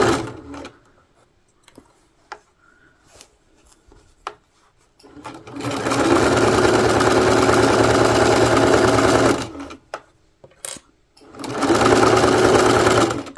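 Sewing machine stitching fabric for a project bag, with two sustained runs of steady, close, fairly loud whirring and needle chatter separated by a pause filled with faint handling clicks.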